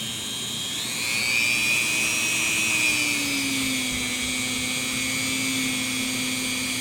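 A motor-driven wheel on a homemade fret-tool setup spins with a steady whine and rising, gliding tones, holding continuous and moderately loud throughout with no talking.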